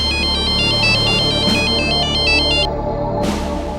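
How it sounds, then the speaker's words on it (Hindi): A phone's ringtone for an incoming call plays loud and close as a repeating electronic melody, breaking off briefly near the end before starting again. "दूसरे दिन एक और फोन कॉल ने इस सन्नाटे को चीर दिया।"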